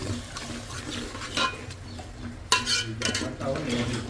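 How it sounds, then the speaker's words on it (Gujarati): Water is poured into a cooking pot of Manchow soup with soy sauce already mixed in, giving splashes and clinks of utensils against the pot in short bursts. "હવે થોડું નાખવામાં આવે છે પાણી."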